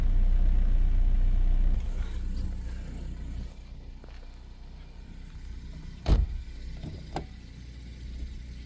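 A 2012 Ford Focus sedan engine idles with the hood open, a steady low rumble that drops in level partway through, followed by a couple of sharp clunks near the end.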